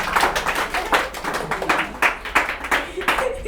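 Students in a class clap together, a ragged burst of hand claps at close range with irregular overlapping strikes, some voices murmuring beneath.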